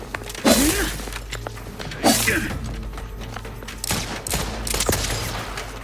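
Bursts of gunfire in The Outer Worlds 2 combat, several loud volleys arriving in separate clusters with short gaps, close and punchy, alone without talk.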